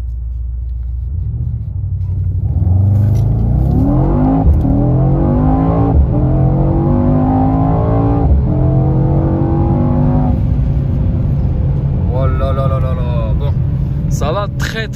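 A Mercedes E63 S AMG engine roars under hard acceleration, rising through several gear shifts with loud, close rumbling while someone talks over it.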